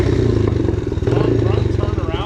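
A motorcycle engine pulling hard at wide-open throttle, a loud close rasping exhaust pulse that holds steady, with a voice briefly over it.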